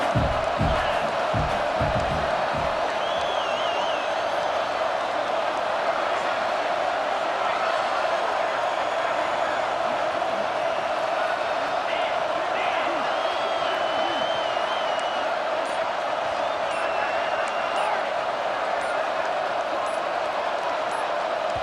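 Stadium crowd at a college football game against K State roars in a dense, continuous wall of noise with whoops and shouts rising throughout, loud and unbroken, with voices talking underneath.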